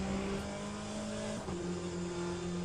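A Chevrolet Corvette C8.R race car in Le Mans Ultimate holds a steady engine drone at speed, with a quick gear change midway and a fairly faint, continuous tone.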